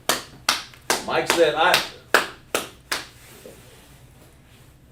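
People clap for a correct answer in a spelling exercise on Assyrian and ancient words. About seven sharp, close claps come in an uneven burst with voices talking among them, then the sound fades to quiet.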